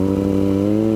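A Kawasaki ZX25R motorcycle with a new aftermarket exhaust holds a loud, steady, buzzy engine note at close range, with no pause or talk.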